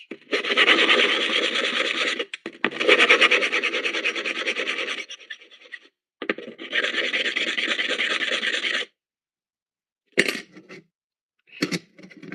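Harsh, rasping strokes of sandpaper scrubbing a wooden surface in long continuous bursts, separated by pauses, followed by a few short scrapes near the end.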